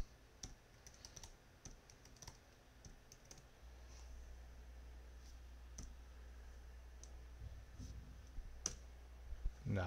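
Typing on a computer keyboard, a quiet irregular patter of key clicks spread over several seconds with a louder tap near the end, close and faint against a low hum.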